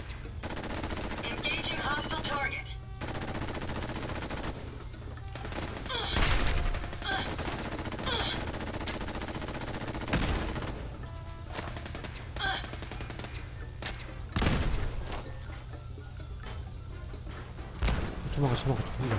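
Fallout 4 gunfire at survival difficulty comes as repeated bursts of shots at moderate loudness over a constant background hum, spread across the stretch with gaps between volleys.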